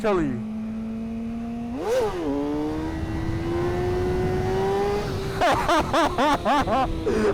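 Motorcycle engine in second gear, held at a steady hum before swelling and climbing in pitch as throttle is added, then a series of quick sharp revs near the end, close and loud.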